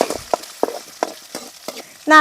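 Beaten eggs stirred and scrambled in hot oil in a pan, giving short scraping stir strokes over a faint sizzle, ending in a brief louder tonal clatter.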